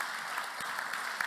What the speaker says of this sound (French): Oui, on peut applaudir le Seigneur.